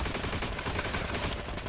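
MG13 machine gun firing in the video game Heroes & Generals, a dense and loud stream of rapid shots that runs without a break through the short stretch.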